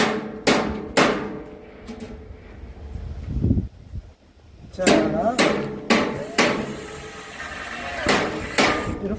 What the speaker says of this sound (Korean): J 채널을 먼저 박아요